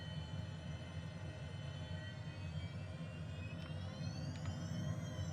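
A Honda Jet rolls for takeoff, its jet engines giving a steady loud whine with tones that slowly climb in pitch over a constant low rumble inside the cockpit.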